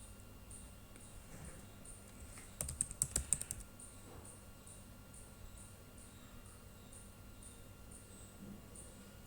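A short burst of rapid keystrokes on a computer keyboard while writing a program, heard close against a quiet, steady room hum, with silence before and after the typing.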